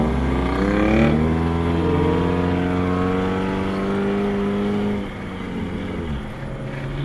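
A car engine at an Import Alliance meet on the Talladega Superspeedway roars nearby and accelerates with rising tone, holds steady, then eases off near the end.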